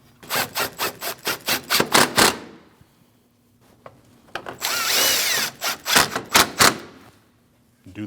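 A power tool runs down bumper bracket bolts on a 2014–2023 Jeep Cherokee in two bursts of rapid, close, rattling impacts with a short quiet gap between them, and a steady whir under the second burst.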